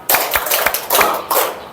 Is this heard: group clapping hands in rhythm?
yes